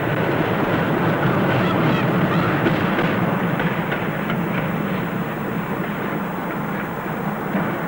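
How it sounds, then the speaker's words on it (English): A 1970s train running on the Kyle line in the Scottish Highlands, a steady broadband rumble that holds loud and continuous throughout with no speech over it. "But now the train goes on from here."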